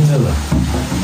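Food sizzles and fries in a pan as a husband cooks at home, a steady close crackling hiss throughout with brief stirring scrapes.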